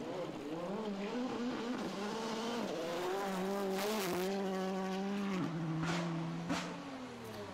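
A Porsche rally car on dirt roads during the Sezoens Rally, its engine revving up and down through gear changes with rising and falling pitch, loud and close, with brief crackles and bangs.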